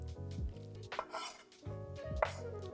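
A knife chops shiitake mushrooms on a cutting board in quick, close thuds, with rapid knocks in clusters separated by short pauses, fairly loud over a faint background hum, with no talk.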